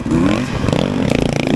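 A motocross bike's engine revs hard and choppy at close range as the rider hops a log in a cross-country race, with a rising snarl breaking into rapid pulsing bursts.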